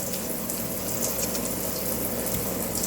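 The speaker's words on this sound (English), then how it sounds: "get some more water over the ear of corn here" Tap water running steadily over an ear of corn being rinsed by hand in a home kitchen, a constant close splashing gush with no pauses and no voices.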